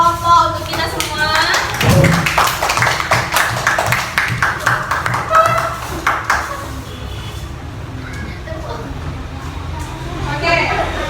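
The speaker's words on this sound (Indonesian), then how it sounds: "tepuk tangan dulu untuk semua kelompok, untuk kita semua" A classroom group of students claps together near the start, a burst of quick overlapping hand claps that thins out while a teacher's voice and children's chatter carry on over the room.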